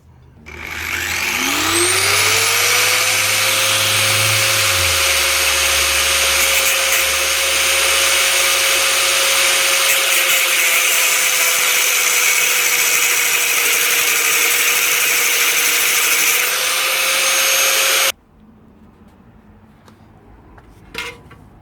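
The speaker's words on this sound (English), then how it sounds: "let's see if we can't shorten these excess bolts down a little bit" A power tool, likely an angle grinder, cuts down protruding excess bolts with a loud, steady high whine that spins up, holds for about sixteen seconds, then stops abruptly, leaving a quiet room.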